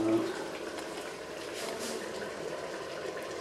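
Bell pepper fries in a pan for Uzbek plov, a soft continuous sizzle and bubbling hiss, faint and even throughout.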